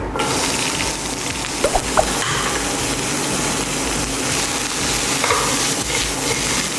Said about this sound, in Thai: เราใส่น้ำมันลงไปแล้วครับ เราก็จะใส่หอมใหญ่ตามลงไปเลย